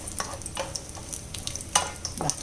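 Cashews and raisins fry in a pan for kaipola, a soft sizzle broken by several sharp scraping stirs and spoon taps at irregular intervals, close by, no talking.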